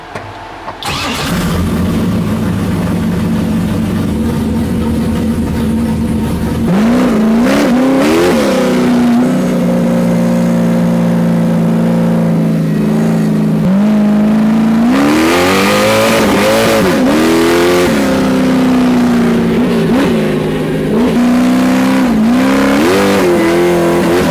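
Ultra 4 off-road race truck engine cranking and firing up, then idling loud and rough before two surges of revving that rise and fall, close and dominant throughout.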